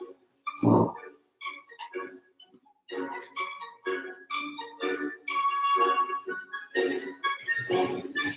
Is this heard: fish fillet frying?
no